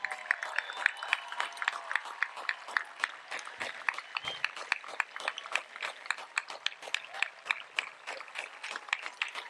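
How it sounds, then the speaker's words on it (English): An audience at a high school commencement ceremony applauds in a steady, continuous patter of many hands clapping, moderately loud and sustained from start to finish with no break. "also stand please for a round of applause"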